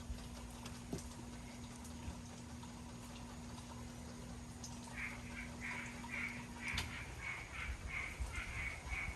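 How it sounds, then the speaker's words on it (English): Frogs croak outdoors during a hurricane, a faint rhythmic pulsing chorus that starts partway through and repeats steadily over a low background hum and noise. "Listen to the frogs."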